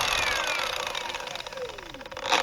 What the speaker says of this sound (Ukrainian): включається болгарка